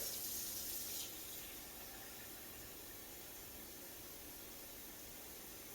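Hot tap water runs steadily into a container in a continuous hiss, louder at first and then settling into an even flow.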